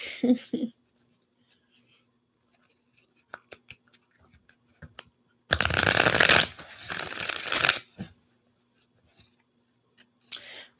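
Tarot cards shuffled in a quick, dense burst of riffling lasting about two seconds, with a few faint taps and handling sounds before and a brief rustle near the end.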